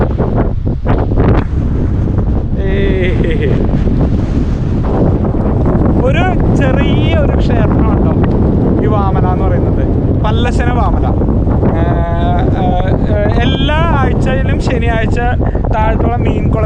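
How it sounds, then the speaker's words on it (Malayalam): Strong wind gusting across a hilltop viewpoint above open paddy fields at Pallassana Vamala, Palakkad, a loud steady roar buffeting the microphone throughout while a person speaks over it. "നല്ല കാറ്റാണ് നല്ല കാറ്റ്"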